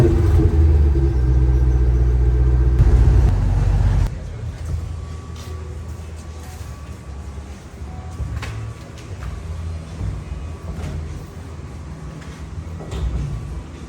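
A Dodge Challenger Scat Pack with a 392 6.4-liter V8, factory converters, an X pipe and a muffler delete, rumbles in a loud, deep idle that drops to a softer, steady burble after a few seconds.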